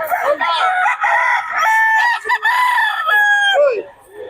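A black hen at a poultry market sends out loud, close, drawn-out squawks and clucks, with several strained calls in quick succession and no talking.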